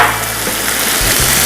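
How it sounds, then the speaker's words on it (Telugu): Asafoetida dropped into hot oil for batata poha gives a loud, dense sizzle that holds steady through a short burst, close up and with no talking. "హింగ్ని కూడా నేను ఆయిల్లో వేస్తున్నాను"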